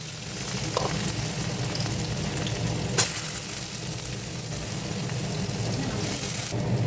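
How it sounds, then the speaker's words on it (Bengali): Potatoes and carrots fry in hot oil for a breakfast dish, a steady close crackling sizzle with occasional stirring clinks against the pan. "এবার একটু দিয়ে আলু আর গাজরটা ভাজা ভাজা হয়ে যাবে"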